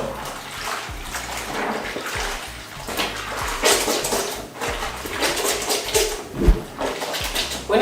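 Clothes are scrubbed by hand in soapy water, giving continuous sloshing, squelching and splashing with irregular wet surges, close and moderately loud, with no talk.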